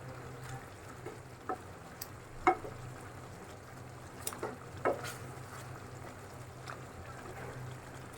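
Malai chicken chaap simmering in a pan over medium heat, giving a low continuous bubbling sizzle with scattered light clicks and taps of a utensil, quiet and steady throughout.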